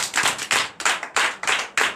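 A church congregation at a Sunday worship service in Benin claps loudly in rhythmic bursts, sharp, close, energetic hand claps grouped in quick patterns with short gaps between them.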